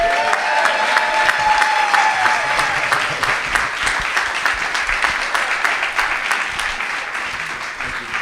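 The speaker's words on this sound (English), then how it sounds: "So let's give a round of applause for Mr. Daniel Mizrobian." An audience applauds at an awards event, a dense, loud, sustained burst of clapping that gradually thins out.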